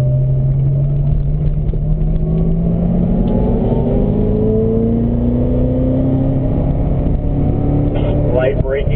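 A Corvette ZR1's engine roars loudly on a race track, its pitch climbing steadily through a gear before a quick downshift blip near the end, with a voice talking over the continuous engine noise.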